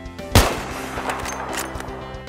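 A single sharp sniper gunshot in a long-range headshot on Wake Island in a shooter video game, fired from a cargo ship, with a sudden crack followed by a reverberant tail over steady game background hum, no talking.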